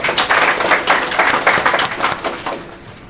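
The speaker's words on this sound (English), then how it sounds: "Let's give them a round of applause." A live audience claps steadily for guests from an athletics club and the cadets at a Comrades Marathon send-off event. The dense, loud round of applause runs for about three seconds, with no talking over it.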